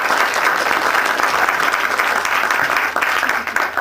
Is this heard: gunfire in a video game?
no